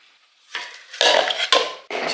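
A pot and cutlery handled while serving food from a pan, heard as several close, sharp clattering bursts of metal and crockery with short pauses between, and no talking.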